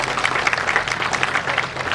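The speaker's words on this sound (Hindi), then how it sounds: "मैं चाहूँगा आप सबके लिए जोरदार ताली बजाएं" An audience at a religious gathering honoring an acharya claps loudly and continuously, dense applause filling the whole stretch without any talk over it.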